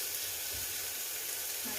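Beef samosa filling browning in a pan gives a steady, continuous close sizzle and fry hiss, with a faint stir near the end.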